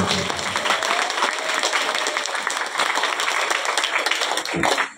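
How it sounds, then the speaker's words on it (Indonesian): Audience applause at a junior high school graduation announcement in Indonesia, many hands clapping in a dense, sustained burst, a faint voice briefly audible within it before it tails off at the end. "Tepuk tangan."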